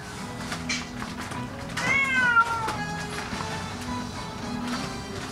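Several cats meow in a cat cafe, a drawn-out rising and falling meow standing out near the middle over a busy room murmur and faint movement sounds.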